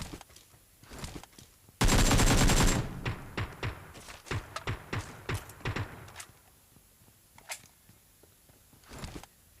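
Gunfire in the PUBG mobile battle royale game, a loud rapid automatic burst followed by a string of separate shots and clacks of varying loudness.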